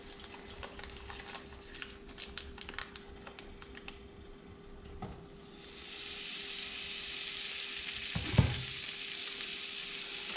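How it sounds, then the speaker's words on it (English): Quiet crackling and ticking at first, then a steady, louder sizzle of bluegill fish frying in butter in a hot pan, with a faint steady hum underneath. "let's get to frying up these bluegills, shall we?"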